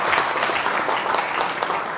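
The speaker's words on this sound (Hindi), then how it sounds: "ताली बजा करके।" A crowd applauds in congratulation at a Bharat Scouts and Guides gathering, loud continuous clapping with a few sharper individual claps standing out, close and unbroken.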